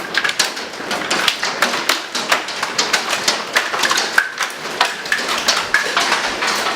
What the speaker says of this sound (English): That hail is gonna break our window yet.